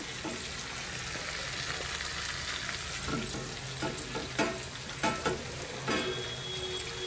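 Sesame and spice masala fry in a pan for a traditional mashed brinjal curry, a continuous hiss of sizzling oil with scattered stirring scrapes and ticks close by.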